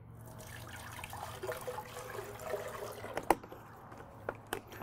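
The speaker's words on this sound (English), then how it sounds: "I'm going to start by adding a little bit of water to this" Faint trickle of water being poured into a blender with greens, quiet and intermittent, with a few small clinks and knocks near the end.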